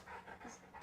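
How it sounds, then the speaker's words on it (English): Dogs pant quietly in the background, a brief rhythmic run of breathy huffs that keeps going through the short moment. "if you hear dogs in the background"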